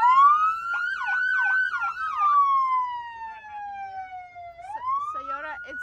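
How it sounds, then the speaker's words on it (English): Police car siren wailing close by, rising and falling with a fast warbling section, then a long downward sweep and a renewed rise as a voice speaks near the end. "It's a police car!"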